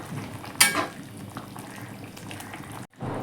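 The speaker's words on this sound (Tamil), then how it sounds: "இப்போ நம்ம இதை நல்லா மிக்ஸ் பண்ணிடலாம்" Sambar bubbles and simmers in a pot with a low, constant boil. A single spoon clink near the start and some soft stirring sit on top, and a brief pause comes near the end.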